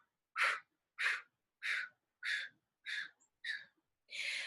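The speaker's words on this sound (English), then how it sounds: "we're just going to take 8 pulsating pumps of exhales out" Seven sharp, forceful exhales pumped out through the mouth in a steady rhythm during a breathing exercise, each a short close breathy burst separated by silence, the last one longer and slightly drawn out.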